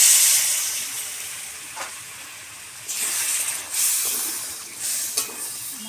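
Water poured onto hot spice paste in a pan sends up a steady steamy hiss and sizzle, swelling in a few louder surges, with no talking.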